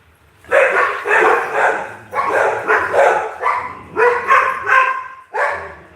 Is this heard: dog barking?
yes